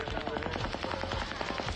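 Rapid bursts of gunfire from the Las Vegas shooting, heard as a quick repeating train of sharp cracks at a distance, fairly faint and muffled as in a phone recording.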